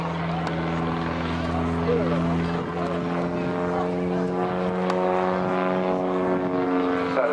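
A Bulldog propeller aircraft flies an air show display at Southport, its steady droning engine and propeller hum holding loud and continuous throughout, with a commentator talking over it.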